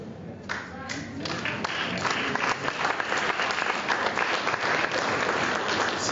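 Audience at the National BDPA Technology Conference bursts into applause, many hands clapping that swell after a brief start and hold steady with a few voices mixed in.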